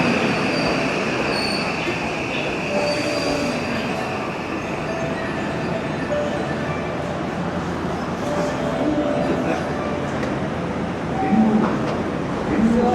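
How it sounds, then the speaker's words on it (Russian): An Osaka metro train pulls into a station with a continuous loud rumble of rolling stock and occasional high wheel squeals, while voices murmur in the background. "Поезд приехал."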